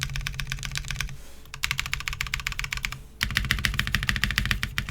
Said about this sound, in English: Spacebar sounded real solid.